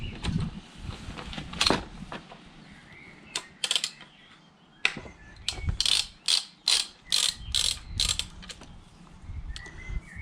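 A ratchet tightens the transmission fill plug on a BMW E9X, quiet clicking bursts at first, then a run of evenly spaced loud ratcheting strokes, close up with no talk.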